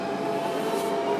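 Steady rumble of a train in motion, heard from inside a nearly empty carriage, continuous and moderately loud with no voices.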